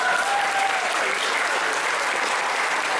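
Dense, steady applause from a convention crowd at a cosplay event, a continuous full wash of many hands clapping at even loudness throughout.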